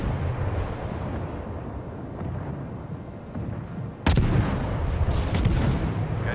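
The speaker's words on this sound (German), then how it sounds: "Ja, der schießt gegen Felsen." Warship guns firing at rocks in the naval game World of Warships: a constant low rumbling background, then a sudden heavy boom of gunfire with a rolling blast that lingers.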